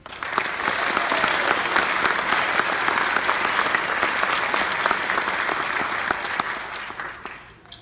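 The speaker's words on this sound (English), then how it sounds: "Let's give a round of applause for the Lansing Community College School of Nursing graduates." Audience applauding nursing graduates at a community college pinning ceremony, dense, loud clapping from a big crowd that holds steady for several seconds before fading out.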